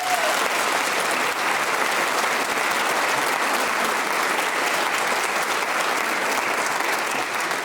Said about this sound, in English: you do earn this very well-connected round of applause